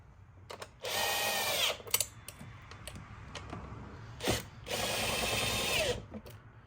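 An impact wrench removes bolts in two loud bursts of rattling, buzzing hammering, each about a second long and separated by quieter clicks and handling noises.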